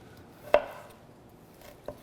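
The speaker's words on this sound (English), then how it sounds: "you can cut it up any way you like" A knife cuts ahi tuna into chunks: one crisp chop against a board, then a second lighter cut, both quiet with near silence between.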